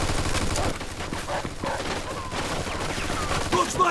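Dense machine gun fire and a gunfight in the Mafia 2 Definitive Edition video game, with a continuous loud wash of bursts and shots, busy mixed combat noise throughout.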